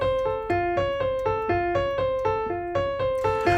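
Agitated, haunting trailer-music notes from Ant-Man and the Wasp: Quantumania, a repeating pulse of sustained tones that re-strike roughly every quarter second in an even, insistent pattern at moderate loudness, with no voices.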